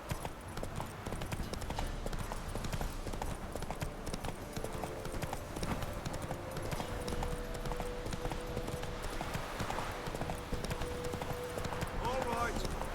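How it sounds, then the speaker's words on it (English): Horse hooves clip-clop in a steady, fast rhythm in The Witcher 3 game, with a faint neigh, ambient game sound and voices talking over it throughout. "Whoa there, Roach."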